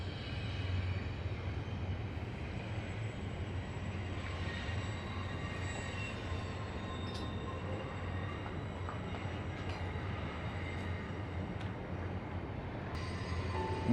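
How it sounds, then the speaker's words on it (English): A distant train runs on a hill above an abandoned Westinghouse flood gate site, a faint steady rumble with occasional high wheel squeals, heard without talk. "And you can hear the train up on the hill."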